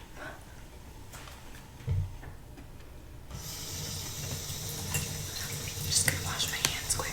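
Tap water runs into a kitchen sink for handwashing: a steady, close hiss and splash that switches on partway through, after a quiet, soft-spoken stretch.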